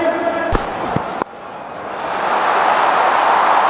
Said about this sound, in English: A lot of noise today in this crowd.